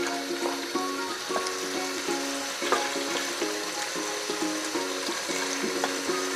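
Pieces of beef and bottle gourd (lauki) frying and being stirred in a pan, a steady sizzle with repeated scraping strokes in an even rhythm, close and moderately loud.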